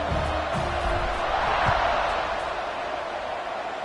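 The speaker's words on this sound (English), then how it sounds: "this crowd is buzzing after that last score" A football stadium crowd buzzes after a score at a Stanford versus TCU game, a steady broad roar of many voices with a faint commentator's voice underneath.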